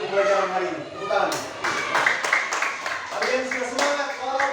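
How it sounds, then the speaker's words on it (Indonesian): Children in a classroom clapping together, a steady burst of applause mixed with a teacher's voice and chatter throughout. "tepuk tangan dulu untuk pembelajaran hari ini."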